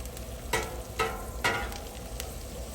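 Butter melting on a Blackstone flat-top griddle alongside New York strip steaks, onions, thyme and parsley, with a steady close sizzle and three sharper bursts of crackle spaced about half a second apart, no talking.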